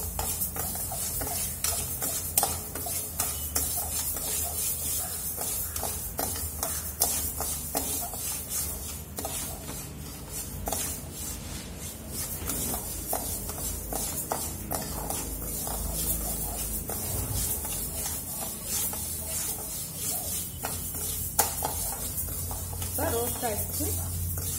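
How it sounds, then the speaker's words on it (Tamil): Moong dal being dry-roasted in a pan, a steady gritty rustle and scrape of stirred lentils with faint sizzle-like hiss throughout, sitting under a speaking voice. "ஒரு வாணலில லைட்டா பச்சை வாட போற அளவுக்கு ரோஸ்ட் பண்ணி எடுத்துக்கலாம்."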